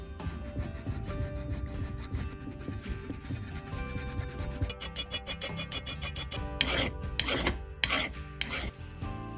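A metal file rasping a cast bronze sword, steady scraping strokes close by that turn into sharper, louder bursts of filing near the end.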